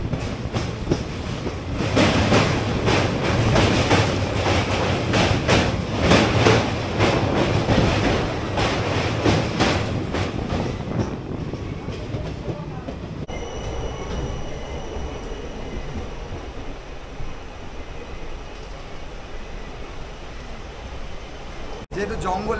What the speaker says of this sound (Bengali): পুরো জঙ্গলের মাঝখান দিয়ে ট্রেনটা যাচ্ছে দেখো।